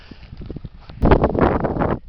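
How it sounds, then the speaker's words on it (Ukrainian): Gusty wind buffeting the microphone, light at first, then a loud rushing blast for about a second before dropping away. "Скажений вітер, пацани. Просто скажений вітер."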